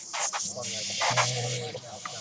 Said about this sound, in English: So I'm going to spray this one time